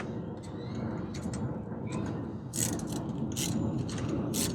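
A ratchet loosening a spark plug on a 2015 Toyota Corolla LE clicks steadily through a rough mechanical grind, with sharp metallic ticks and scrapes near the microphone.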